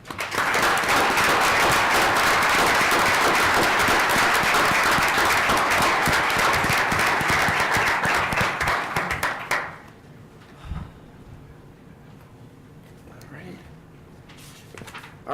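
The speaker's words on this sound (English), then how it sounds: "we should give them a big round of applause" Dense applause at a city council meeting honoring police officers, loud and sustained for about ten seconds before cutting off, followed by quiet room noise and brief talk.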